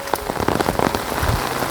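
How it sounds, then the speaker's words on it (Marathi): Heavy monsoon rain pours down on a village field by a bridge, a dense, close patter of drops striking surfaces and water, loud and continuous with no talk. "फायनली पाऊस आला आहे"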